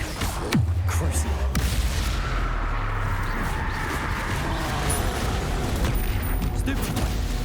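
Spell-casting combat in Hogwarts Legacy produces a deep boom, then rumbling blasts and sweeping magical whooshes, loud and layered, with a voice faintly present underneath.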